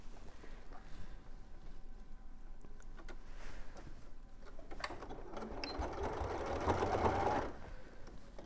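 A sewing machine stitches a rabbit toy, quietly at first with faint mechanical ticks, then running in a louder, steadier whirring burst near the end before stopping.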